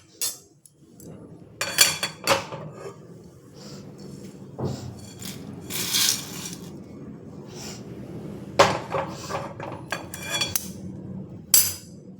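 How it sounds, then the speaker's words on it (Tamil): Dry-roasted chana dal is tipped from a pan onto a plate, giving several short rattling, clattering bursts of hard lentils and metal, with quieter kitchen handling between them. "கடலைப்பருப்பும் செவந்துட்டு இப்போ இதையும் எடுத்து அந்த தட்டில் கொட்டிக்கலாம்"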